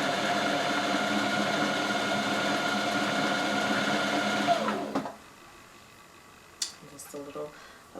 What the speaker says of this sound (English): Let the sewing machine do its job.